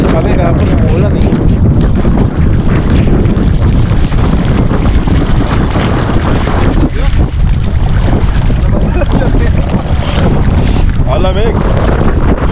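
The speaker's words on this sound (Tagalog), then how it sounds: "Sasabayan pa ng malakas na hangin." Strong wind gusting across the microphone beside the Calabasa River in Gabaldon, Nueva Ecija, a loud continuous low roar with rushing water beneath it, steady throughout with no break.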